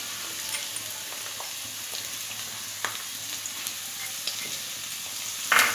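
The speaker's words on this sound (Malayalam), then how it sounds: "ഇളക്കി കൊടുക്കാം." Sliced onions fry in a pan over a full flame with a steady, quiet sizzle, broken by a few soft scrapes of stirring and a louder clatter near the end; there is no talk.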